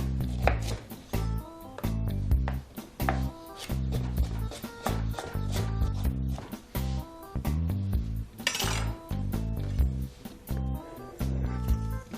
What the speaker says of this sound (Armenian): Գազարն էլ կտրատենք կիսավարներով։